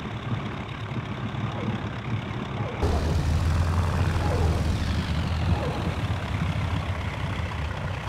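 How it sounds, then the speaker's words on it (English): A light aircraft flown from the back seat drones steadily on landing approach near stall speed, a loud continuous engine and propeller roar that swells slightly partway through. "You fly it from the back seat, and obviously we're trying to arrive as close to the stall speed as possible."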